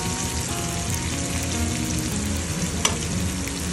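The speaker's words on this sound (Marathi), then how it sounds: "कांदा मस्त असा गोल्डन ब्राऊन परतून घ्यायचा।" Sliced onions frying in a pan for Maharashtrian baingan bharta (vangyache bharit) with curry leaves, a loud continuous sizzle with stirring scrapes and one sharp clink, no voices.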